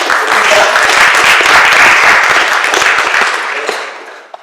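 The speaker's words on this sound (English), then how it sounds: "Let's have a round of applause for all those people." A church congregation claps in a round of applause, dense and steady for about three seconds before thinning out and fading, with a lone clap near the end.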